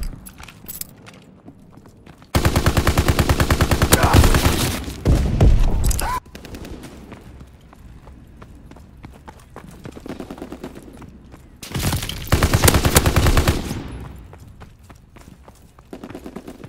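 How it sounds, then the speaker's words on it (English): A Call of Duty WWII fighter plane strafing run, with two long, loud bursts of dense machine-gun fire separated by quieter game ambience and scattered distant shots. "Fighter pilot inbound, strafing the target."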